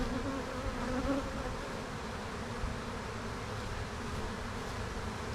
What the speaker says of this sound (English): I had a swarm underneath a hive